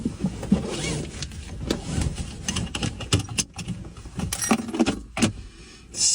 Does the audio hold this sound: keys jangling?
yes